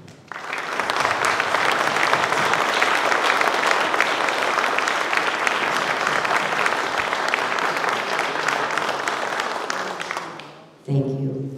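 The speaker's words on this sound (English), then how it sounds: "I'd like to have a round of applause because they have worked very hard." Sustained applause from an audience at an evening community meeting, loud and steady for about ten seconds before fading, followed by a brief moment of a voice speaking.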